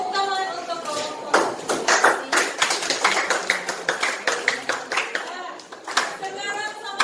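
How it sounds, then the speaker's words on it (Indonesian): A classroom group receives applause: dense, rapid clapping from many hands runs through most of the stretch, fairly close and steady, with children's voices chattering faintly underneath. "tepuk tangan untuk kelompok"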